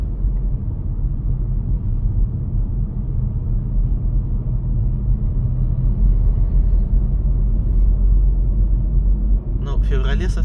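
A car climbs slowly in dense traffic on the road up to the Goryachiy Klyuch pass, its engine and tyres making a steady low rumble, with a brief rattling noise near the end.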